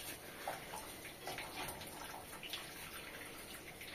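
Cold water pours steadily over boiled chowmein noodles, a continuous splashing rush with faint drips, close and alone without talk.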